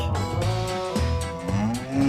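A cow moos in a loud, drawn-out bellow with a rising tone near the end, heard alone with no one talking.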